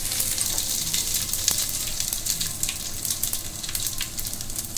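Green chilies and cumin seeds frying in hot oil for ghee rice, a steady close sizzle and crackle that runs without a break, with no talk.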